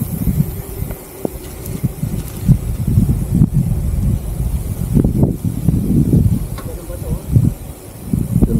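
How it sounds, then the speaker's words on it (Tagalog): Strong wind gusts buffet the microphone outdoors, a low rumbling roar rising and falling throughout while people talk. "Lakas ng hangin, ano?"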